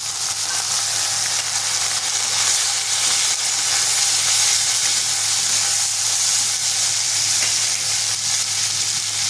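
Tomato frying with onions in a hot pan, a loud continuous sizzle with fine crackling and spitting that stays even from start to finish, no talk.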